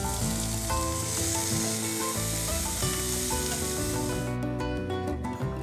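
Boiled white chickpeas drop into a hot pan as part of a daliya salad, setting off a steady, loud frying sizzle with stirring scrapes that continues through the whole stretch, with no voices.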